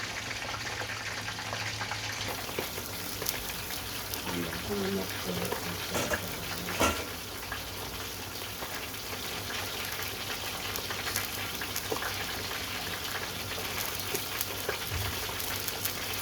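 Water sizzles and bubbles steadily in a pan while sea bream is cooked with salt, a constant close frying hiss with a few brief clinks and stirring sounds along the way.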